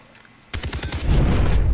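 Gunfire in the Far Cry 3 online multiplayer game, where a sniper rifle is in play, erupts suddenly after near silence as a quick string of loud, sharp cracks that swell into a heavy, rumbling roar.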